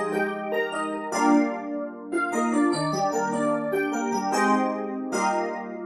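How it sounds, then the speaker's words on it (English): A 90s-style electric piano plays a bouncy chordal keys pattern in a hyperpop production, bright and steady with repeated chord stabs, close and alone. "I wanna do some like 90s keys in here."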